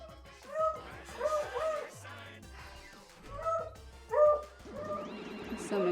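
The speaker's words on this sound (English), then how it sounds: "So many dogs." Dogs yip and whimper in the game Danganronpa V3: Killing Harmony, short high cries scattered over soft background music.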